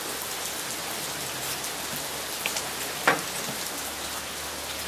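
Steady rain pours outdoors as a dense, even hiss of drops falling on surfaces, constant and fairly loud throughout, with a couple of faint knocks and no talk.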